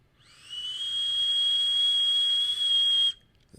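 A Golem RDA vape atomizer gives a sharp, steady high-pitched airflow whistle during one drag of about two and a half seconds, rising in quickly and cutting off abruptly, heard close and alone.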